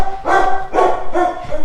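A deaf dog barks loudly and close by, three strong barks evenly spaced in under two seconds, each with a bright, full-bodied tone and no talking over them.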